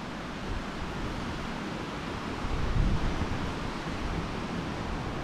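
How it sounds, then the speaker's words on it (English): Waves washing onto a sandy Lake Huron beach at Port Crescent State Park, Michigan, heard as a steady, faint rushing wash mixed with wind buffeting the microphone, without speech. "Oh yes, lots of wave."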